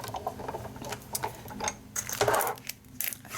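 A Big Shot die-cutting machine cranks dies through as part of making paper Christmas chocolate tree decorations, giving a close, busy rattle of small clicks and clacks with a scraping pass partway through.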